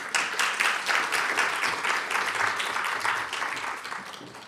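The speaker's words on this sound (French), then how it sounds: "Merci de témoigner de votre chaleur pour elle par des applaudissements." An audience at a conference on women and media gives warm applause, a dense, even roar of many hands clapping that holds steadily and tapers slightly at the end.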